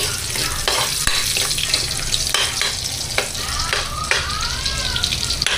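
Garlic sautés in a frying pan in a home kitchen, a steady loud sizzle with repeated scraping and clinking of a spatula stirring, close and continuous with no talk.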